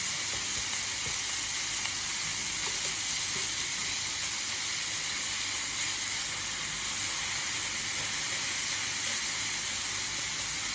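Spicy lamb mince sizzles steadily in a hot pan, a constant bright hiss carrying through, with faint scrapes of a spoon breaking up lumps underneath.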